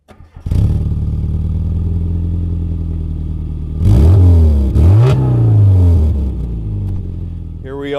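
A 1997 Rover Mini Cooper engine idles steadily, then revs hard through a few gear changes as it pulls away, loud and close with a rattly tone.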